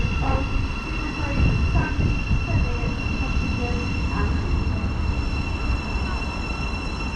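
A train rumbles and rolls into Stevenage station steadily with a loud, continuous low roar and steady high tonal hum, fairly close, with faint voices in the background.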